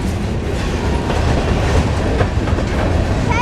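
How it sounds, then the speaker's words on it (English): Train with foreign locomotive power rolling along the rails at St. Elmo, Alabama, a loud, continuous rumble with rhythmic wheel clatter and a faint squeal, heard up close with no talking. "Yeah, there's a train down there."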